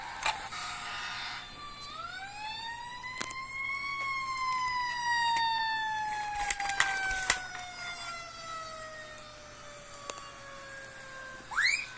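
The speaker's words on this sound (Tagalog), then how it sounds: "Mga dumadaan na mga fire truck." Passing fire truck sirens wail from a distance, a long rising then slowly falling tone sweeping across the street, with scattered clicks and a brief second siren whoop at the end.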